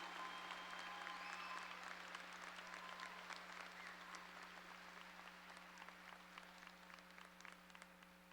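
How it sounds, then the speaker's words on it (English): Sustained applause from a graduation crowd honoring the valedictorians and salutatorians of a 2013 high school class, a dense even patter of many hands clapping throughout, heard at a distance in a large hall with a low steady hum beneath. "let's have a huge round of applause for the valedictorians and salutatorians of the class of"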